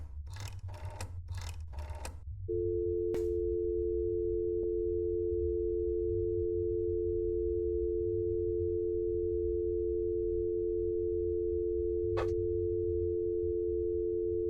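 Telephone dial tone from the video game That's Not My Neighbor: a few quick clicks, then a steady, unbroken electronic hum that holds for about twelve seconds, interrupted once by a sharp click.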